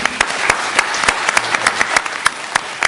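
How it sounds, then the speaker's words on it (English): Audience applause for mayoral candidates at a forum at San Francisco City College, a steady patter of many hands clapping with sharp individual claps standing out. "could you give them a round of applause?"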